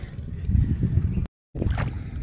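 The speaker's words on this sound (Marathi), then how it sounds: "आणि ट्रॅक्टर पुन्हा एकदा सुरू झालेला आहे. चिखल करायला मळी" A tractor works a paddy field flooded with rainwater, churning it into mud for transplanting; a steady low engine rumble with splashing churn runs throughout, broken by a brief gap of silence midway.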